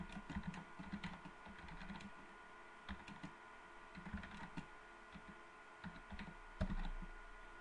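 Keys clatter on a computer keyboard in quick, irregular bursts, fairly faint and close, with a steady background hum and no speech.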